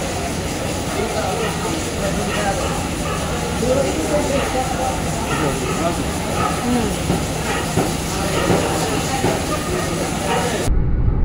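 A Jamuna Express passenger train runs at night, heard from inside as a steady, loud rumble with a faint hiss and soft rhythmic clatter that continues the whole time. Faint voices murmur underneath.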